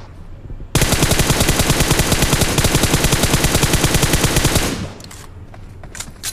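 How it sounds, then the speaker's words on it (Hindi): Sustained automatic gunfire from a PUBG Mobile match, loud and close, a rapid unbroken spray of shots lasting about four seconds before cutting off into quieter scattered game sounds. "बट स्पार्की का ना हिलने वाला स्प्रे।"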